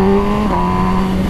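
Stock 2020 MV Agusta Brutale 1000 RR naked motorcycle engine revving up, a loud, steady close-up roar with a brief dip and rise in pitch partway through.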